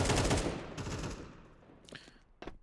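A gunshot in a Counter-Strike match on the Vertigo map, loud and close at the start with a decaying tail, then two sharper shots near the end.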